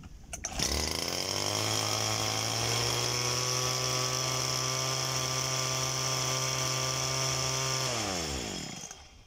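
A grass cutter's small two-stroke engine starts up and runs at a steady, loud, buzzing high idle for several seconds during a post-repair test, then winds down at the end, heard close with no talking.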